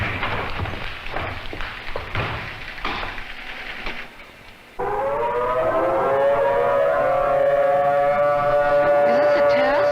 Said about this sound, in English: the civil defense sirens are sounding in earnest